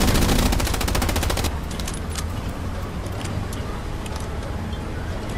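Rapid machine gun fire in a World War infantry battle video game, a dense burst of evenly spaced shots for about a second and a half, then continuous loud battlefield noise with a few scattered sharp cracks.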